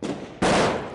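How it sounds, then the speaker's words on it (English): A roar of heavy gunfire from an Egyptian police gunfight erupts partway through, dense overlapping shots blending into a loud sustained wall of noise after a quieter rumbling start. "Lots of heavy gunfire all around us."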